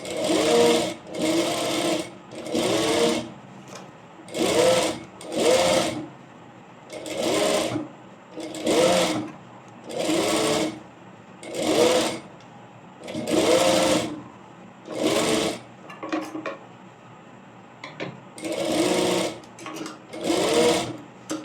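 Sewing machine stitching fabric while tailoring a plain frock, running in short regular bursts of rapid clatter separated by brief pauses, close and clear.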